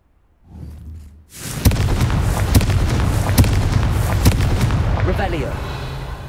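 Confringo blasting curses in the video game Hogwarts Legacy explode in a rapid series of sharp, loud booms over a roaring, crackling rumble that lingers between the blasts.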